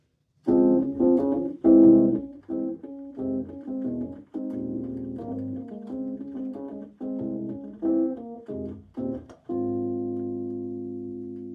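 Piano plays a slow jazz intro with a low left-hand bass line under a higher melody, notes rising and falling in phrases before a final sustained chord rings out.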